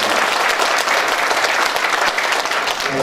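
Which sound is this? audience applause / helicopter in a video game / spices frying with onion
audience applause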